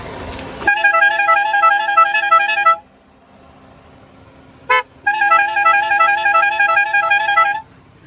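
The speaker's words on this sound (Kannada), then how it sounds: "ಒಳ್ಳೆ ಟೆಂಪೋ ಹಾರನ್ ಇದ್ದಂಗಿದೆ ಅಲ್ಲ" A custom car horn blares a repeating melodic tune in two long bursts, separated by a pause with a short honk, loud and close.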